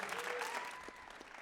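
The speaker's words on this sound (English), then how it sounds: "Let's give everybody a round of applause." An audience at a Black History event claps steadily, a dense patter of hands that thins slightly toward the end, with a faint tone sweeping through.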